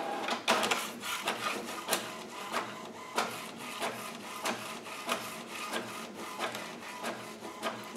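A printer printing on fabric runs with a rapid series of clacking, rasping passes in a steady rhythm, fairly close and loud, with no voices.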